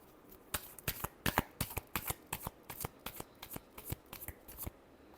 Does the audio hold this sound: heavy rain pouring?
no